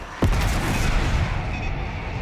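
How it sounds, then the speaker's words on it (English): An airstrike in the Call of Duty: Black Ops 6 desert campaign, heard as a sudden heavy boom followed by a long, loud, rumbling roar of explosions that does not fade, with no talk over it. "to do an airstrike here. Bomb out."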